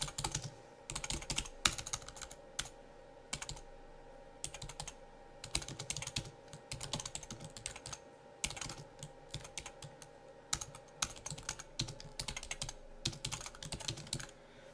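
Steady typing on a computer keyboard while writing a short tweet, a continuous run of light key clicks with brief pauses, close and fairly quiet over a low background hum.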